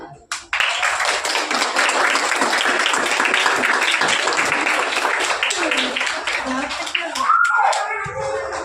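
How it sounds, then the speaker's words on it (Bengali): A crowd of schoolchildren claps steadily and loudly at a school exhibition opening, dense applause running for several seconds before fading as a nearby voice speaks. "স্যারকে আমি জলসিঞ্চনের জন্য অনুরোধ করছি, তোমরা একটু হাততালি"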